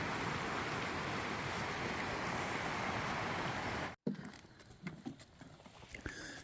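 A swiftly running river on the Pacific Crest Trail near Hat Creek rushes steadily and loud up close, then cuts off abruptly, leaving quieter outdoor sound with scattered knocks and rustles.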